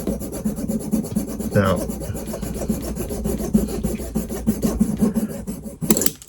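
A Dspiae hobby saw cutting a plastic model part, steady close rasping strokes repeating in a quick rhythm, with a brief spoken word near the start.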